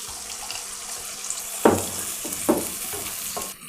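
Half a cup of water poured into a hot cooking pan with onions for a potato masala, giving a few short sizzling splashes over a soft background hiss.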